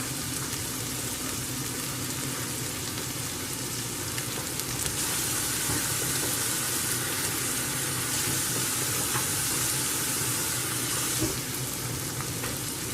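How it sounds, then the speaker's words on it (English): Onions frying steadily in a skillet for a patty melt, a continuous bright sizzle with soft crackle and steam hiss, close and even throughout with no talking. "now we got the onions going"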